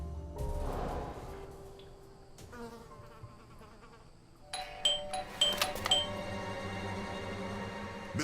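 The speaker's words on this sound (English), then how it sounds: "I thought I should use the doorbell, so I wouldn't startle you." Doorbell chiming in the detective game Blues and Bullets, a few bright ringing tones in quick succession with resonant decay over a quiet game ambience, close and clear.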